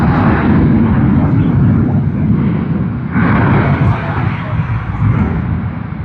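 A Boeing 767-300 cargo jet bound from Hong Kong to Sydney roars loudly and steadily at the airport, a broad continuous engine rumble that swells and eases slightly without pause.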